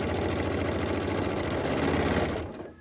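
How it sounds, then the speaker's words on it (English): A sewing machine runs steadily, stitching a quarter-inch quilt seam at a fast, even buzz for a few seconds before slowing to a stop. "I'm going to sew my 1/4 inch seam."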